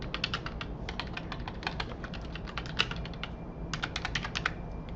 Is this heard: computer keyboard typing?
yes